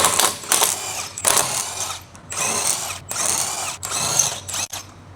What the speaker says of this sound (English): Using the 19mm long socket with the electric impact wrench